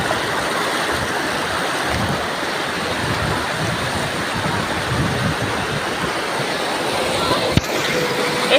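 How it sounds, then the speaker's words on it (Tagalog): Constant heavy rush of churning water, a loud, unbroken roar of strong waves with a brief knock near the end. "Malakas yung alon."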